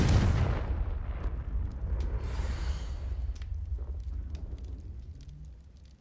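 A fiery blasting-spell explosion in the Hogwarts Legacy video game, a loud booming blast that opens strongly and rolls into a long rumbling decay with crackling debris.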